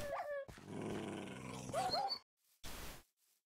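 Minecraft dogs in the video game growl in a rough, sustained snarl lasting about two seconds, with a short whine in the middle and a brief final grunt; no talking.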